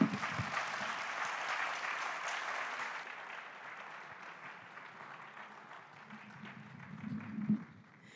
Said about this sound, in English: another round of applause for Major Johnny